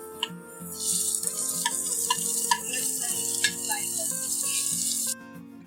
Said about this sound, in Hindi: हमारी प्याज हो गई है, अब हम इसमें टमाटर डालेंगे।